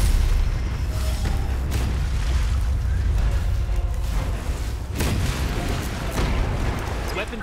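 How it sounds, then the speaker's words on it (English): An EMP pulse weapon fires in Anno 2205, heavy booming blasts over a constant rumbling battle din, with sharp bursts standing out near the middle and loud throughout. "How about a nice little EMP pulse?"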